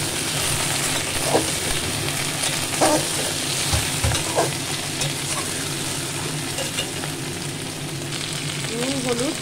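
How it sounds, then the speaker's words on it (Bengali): Vegetables with brinjal fry on a high flame with salt, turmeric, cumin, coriander and green chilli, a steady close sizzle running throughout with occasional stirring scrapes and clinks. "আঁচ কমানো চলবে না, বাড়ানো অবস্থাতেই আমি সবজিগুলো ভালো করে ভেজে নেব।"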